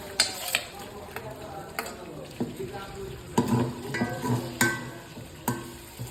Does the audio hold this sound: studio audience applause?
no